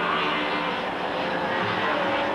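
British touring cars race out of the Craner Curves at Donington Park in 1990, a close group of engines roaring loud and continuous as they pass in a sustained blur of noise.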